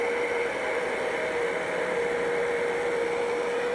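A handheld heat tool blows steadily over a handmade holiday card, a constant whirring hum with a fixed whine, close and even throughout with no voices.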